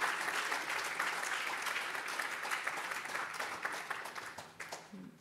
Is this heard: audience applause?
yes